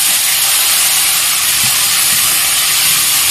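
Chilli and plenty of finely chopped tomato hit hot oil for a pasta sauce, giving a loud, steady, broadband sizzling hiss that fills the whole stretch without pause or talk.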